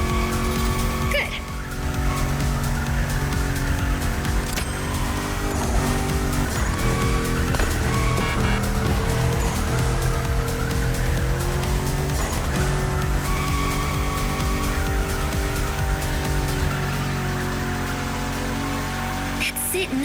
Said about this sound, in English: That's it, nice drift.